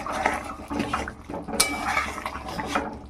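A spoon scrapes and clinks against a pot while taro and meat curry is stirred with ground roasted spices, giving irregular close metallic knocks and wet, soft squelches.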